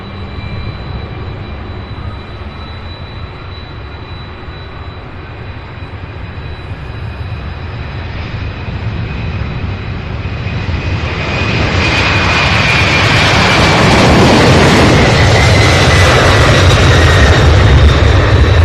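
UPS cargo jets depart one after another from Worldport at night, a steady jet engine rumble that swells into a loud, close, roaring takeoff in the second half.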